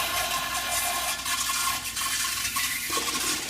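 A malfunctioning toilet in a restaurant restroom flushes on its own with a loud, steady rush of water that fills the space, continuing without a break.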